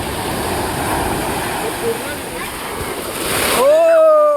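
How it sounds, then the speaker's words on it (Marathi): Sea waves wash steadily onto Devghali Kasheli Beach in Ratnagiri at high tide, a continuous near surf roar swelling toward the end as a tonal whistle-like sound cuts in. "आता भरतीचा टाईम चालू झालेला आहे त्यामुळे मला वाटतं लाटा जास्त वाढल्यात."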